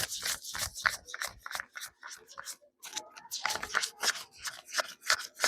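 Rapid crisp rustling and flicking of paper bills counted by hand, a quick irregular series of close, dry snaps without pause.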